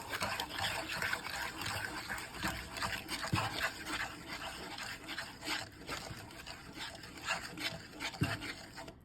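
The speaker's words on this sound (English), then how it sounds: "now we are going to turn the pan on medium and bring it to a boil. And of course we will have to stir." Water heating in a pan on a medium stovetop, stirred steadily, giving soft repeated scraping and gentle liquid swishes at close range, fairly quiet throughout.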